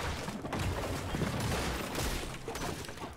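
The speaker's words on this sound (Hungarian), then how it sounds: "egy shotgun lövés, aztán 4 SMG, aztán megint egy shotgun, aztán megint 4 SMG" Shotgun blasts and SMG bursts in Fortnite form a dense, continuous barrage of overlapping shots, loud and busy throughout.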